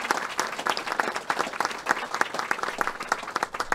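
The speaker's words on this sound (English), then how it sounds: "We all should give you an enormous round of applause." Audience applause at an Illinois event marking the Tobacco 21 law: dense, steady clapping from a sizeable crowd that carries on for several seconds without any speech.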